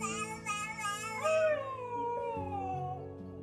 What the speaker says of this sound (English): She had joined in on the baby's crying with a howl of her own.